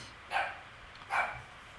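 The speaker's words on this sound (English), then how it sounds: "Y'all hear the puppies." Puppies in a utility room barking, two short yapping barks about a second apart, moderately near against a quiet background.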